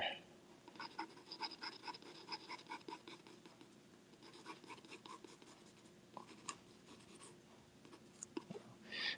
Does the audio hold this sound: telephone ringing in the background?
no